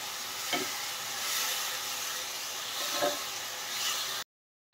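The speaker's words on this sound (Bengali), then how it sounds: "ওদিকে দেখুন বড়া ভাজা চলছে" Bora fritters fry in hot oil with a continuous, close sizzling hiss and a couple of soft stirring bumps before the sound cuts off abruptly near the end.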